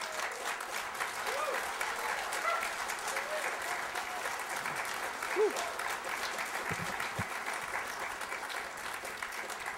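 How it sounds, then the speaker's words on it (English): An audience at the Canadian Canoe Museum breaks into sustained applause, a steady wash of many hands clapping heard from a little distance, with faint voices scattered underneath. "I'm glad you guys did applause"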